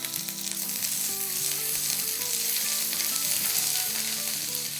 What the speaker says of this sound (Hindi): 1 टेबलस्पून भर के लहसुन का पेस्ट। इसको सौटे करेंगे।